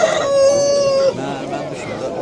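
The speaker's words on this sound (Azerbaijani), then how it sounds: "Kənd toyuqları burada da var." Village chickens at a poultry market, one bird letting out a loud, close, drawn-out call before softer clucking and market chatter continue underneath.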